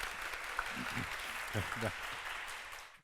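An audience at a lecture on North Korea's current regime claps for the professor who just spoke. The dense, sustained applause fills the hall throughout, and a voice briefly speaks over it.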